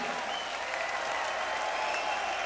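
A concert audience at a show in Dusseldorf applauds and cheers, a dense, steady wash of clapping and crowd noise, loud and sustained throughout.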